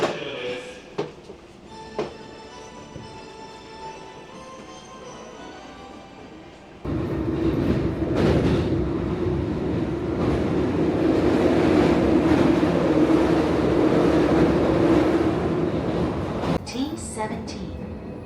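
Quiet interior hum with a few small knocks, then a loud sustained rumble of a train arriving at a station in Japan, growing steadily and easing near the end.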